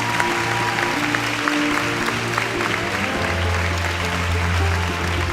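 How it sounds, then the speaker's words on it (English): Audience applause at a middle school May Day program, a steady wash of clapping held evenly throughout with a low hum and tonal bands running beneath it. "Go ahead and give him a round of applause."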